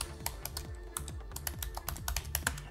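A command is typed on a computer keyboard, a steady run of quick, light key clicks with a few louder taps, close and clear, with no voices.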